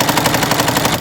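A sewing machine fitted with a walking foot rattles loudly in a rapid, even, machine-gun-like stutter, close and continuous.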